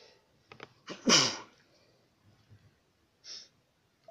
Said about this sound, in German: Upsala, ich muss niesen.